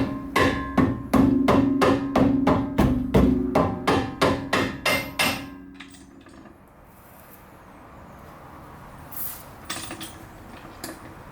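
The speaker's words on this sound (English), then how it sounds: "I'm gonna just tap it with a hammer to get it out" A hammer strikes a metal car suspension part during a coilover install in a fast, steady series of about twenty ringing taps, then stops, leaving quiet shuffling and a couple of faint clinks.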